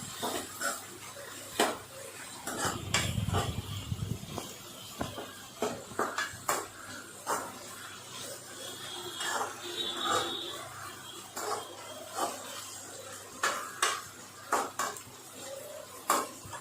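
Fish curry ingredients being stirred and sautéed in a pan over a medium flame, with repeated scraping clinks of a utensil against the pan at an uneven pace and a brief soft rustle early on.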